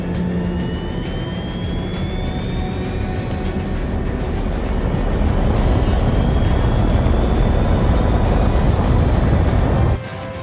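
A loud, steady aircraft engine roars in Xenoblade Chronicles X, with rising whining tones layered over a dense rumble that swells midway, then drops off abruptly near the end.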